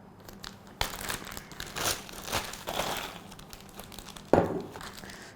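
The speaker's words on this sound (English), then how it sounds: "I'm going to put it in this ziplock bag." A plastic ziplock bag holding Oreo cookies crinkles and rustles softly close by, with a sharper crackle near the end, fairly quiet overall.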